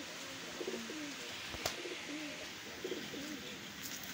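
Several soft, rounded coos from Golden Teddy breeder pigeons in a repeating pattern over steady background hiss, with a sharp click partway through.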